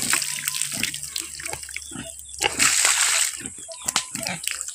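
Water splashes and sloshes in irregular bursts as an animal is bathed, with a brief faint voice in the background.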